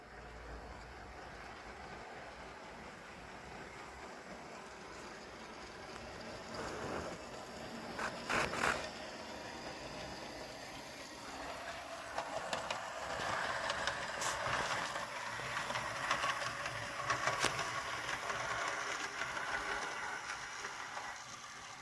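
A small electric model train hums steadily along the track as it climbs a 3 to 4% incline, with faint rail clicks and a few sharper clacks as it grinds slowly onward.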